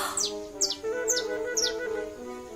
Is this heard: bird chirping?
yes